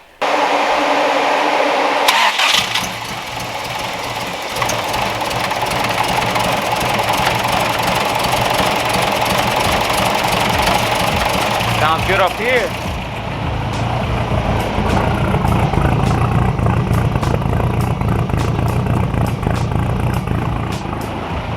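A boosted Toyota 22RE engine cranks and catches, then settles into a loud, steady idle with a choppy cam lope close by; a person speaks briefly over it.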